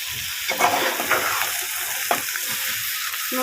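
Onions and meat frying in oil in a pan, a steady close hiss of sizzling with occasional soft stirring scrapes and pops, heard alone.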